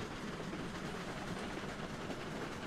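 A steam train climbs uphill in the video game Railroads Online, a faint, steady wash of rumbling rail noise and hiss with soft, even chuffing pulses underneath, heard from a distance.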